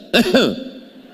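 A single short throaty cough or throat-clear, loud and close, with two quick pulses and a faint fading tail.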